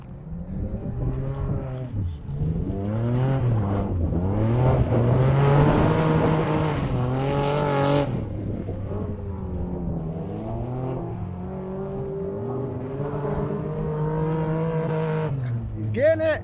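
A budget rally car drifts on a dirt course, its engine revving hard and rising and falling in long sweeping pulls, loud and close, with people talking over it.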